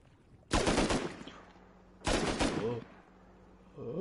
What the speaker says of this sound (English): No, they're just shooting at us.